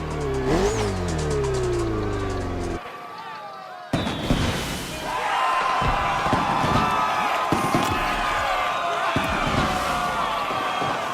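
Race cars rev and accelerate in The Crew Motorfest during a Red Bull Speed Clash, engines whining through rising pitch sweeps, then a brief drop before loud busy racing noise with crowd-like cheering and a voice over the top.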